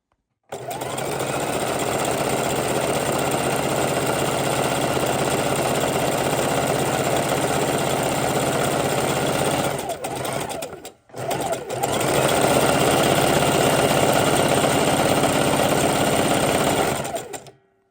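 Sewing machine stitching trim on a fabric room divider, a loud, steady close-up mechanical whir that runs continuously, breaks off briefly for about a second, then resumes until it stops.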